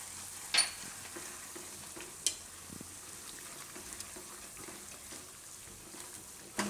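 Gravy for a raw banana curry simmering in a pan until the oil separates, a soft low sizzle with a few sharp clinks of a spoon stirring, fairly quiet and without talk.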